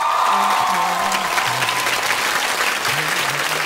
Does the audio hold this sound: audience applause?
yes